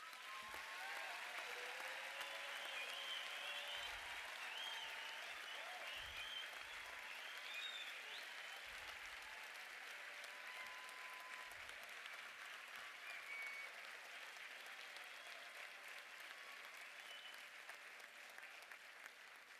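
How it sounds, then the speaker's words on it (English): Sustained applause fills a hall at a University of South Africa autumn graduation ceremony, a dense, even crackle of many clapping hands that carries on throughout and fades slightly near the end. "give the graduates a thunderous round of applause"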